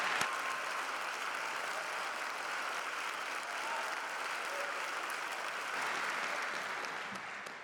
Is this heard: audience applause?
yes